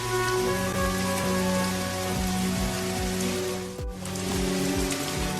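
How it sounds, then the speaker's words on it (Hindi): Heavy torrential rain pouring steadily, a dense close hiss of drops hammering a surface with scattered louder splashes and no voices. "एक दिन बहुत मूसलाधार बारिश हो रही थी।"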